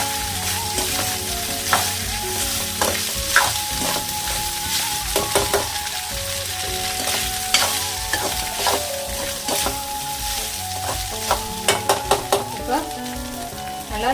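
Goat blood fry sizzles in a pan, South Indian style, with steady frying crackle and repeated scraping and clinks of a spoon stirring against the metal.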